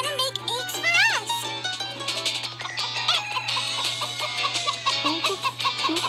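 Chickens clucking in a video game about cooking corn to feed chickens for eggs; repeated, close cartoonish clucks and squawks alongside playful game music and sound effects.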